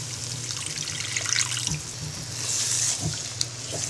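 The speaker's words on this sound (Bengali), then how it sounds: "এখন দিয়ে দিচ্ছি আধা কাপ পরিমাণ পানি।" About half a cup of water goes into spices frying in a pan, a soft splashing trickle over a low background sizzle, with small clinks and bubbling spurts, fairly quiet and without any voice.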